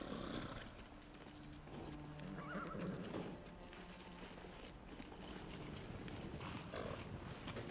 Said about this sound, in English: And there's a horse.